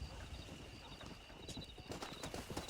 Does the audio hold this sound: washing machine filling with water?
no